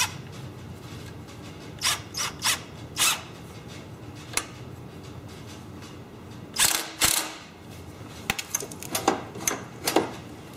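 A throttle cable is being tightened on a riding mower engine during an engine swap, heard as a series of sharp metallic clicks and ratchet-like taps, spaced irregularly and clustered toward the end, close by with no talk.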